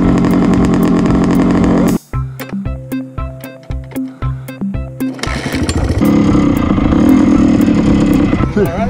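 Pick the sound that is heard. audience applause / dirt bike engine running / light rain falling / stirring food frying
dirt bike engine running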